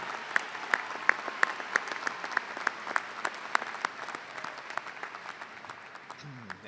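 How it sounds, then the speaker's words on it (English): A round of applause at a fall 2023 University of Toledo commencement ceremony, with many hands clapping steadily from a large audience before the clapping thins and fades near the end. "Let's give a round of applause for everyone who helped make this a special occasion to remember."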